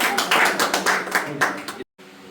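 A church congregation at a Sunday prayer meeting in Indore claps together in thanks to God: a run of quick, fairly loud, uneven hand claps over about two seconds that cuts off abruptly, with a quieter room tone after.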